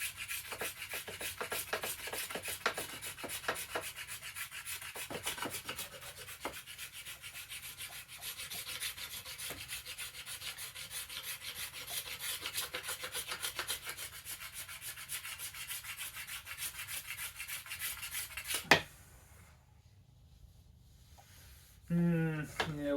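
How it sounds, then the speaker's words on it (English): A card scraper with a dulled edge rasps along a yew bow stave in steady, close strokes, a dense run of scraping that stops abruptly near the end before a brief final scrape. "Lost the sharp edge of my card scraper here."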